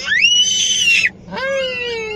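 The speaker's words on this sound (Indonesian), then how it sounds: "Si kecil teriak-teriak." A small child screams in two long, shrill, piercing bursts separated by a short pause, close and loud, with no talking heard.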